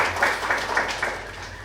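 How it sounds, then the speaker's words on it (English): Audience applause for an evening guest speaker: a steady, dense wash of many hands clapping, with a few slightly louder swells, filling the whole moment at moderate volume. "So a round of applause first for our guest this evening."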